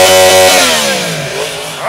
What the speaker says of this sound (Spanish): ¡Ah, qué rico ese motor Crossplane!